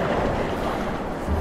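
Ocean waves breaking on a sandy, shell-strewn beach at sunset a few feet away, heard as a steady, loud broadband wash of surf with wind rumble and no talking.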